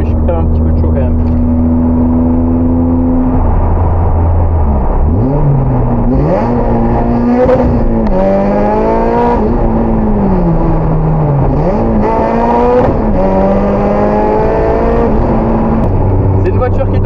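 Honda Civic with a 400-horsepower engine, heard from inside on a road with the windows open. The engine revs and accelerates loudly through several gear changes, with steady roaring harmonics that rise and drop throughout.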